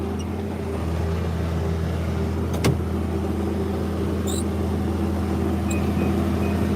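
A tractor planting soybeans while driving through a wheat field, its engine a steady low drone heard from inside the cab, constant and unbroken, with a couple of faint clicks and no talking.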